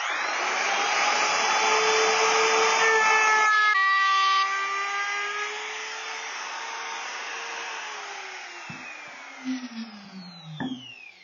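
A power sander grinds steadily across a wooden Tonie shelf for about eight seconds, loud and close with a high whine, then winds down and stops, followed by a few faint knocks.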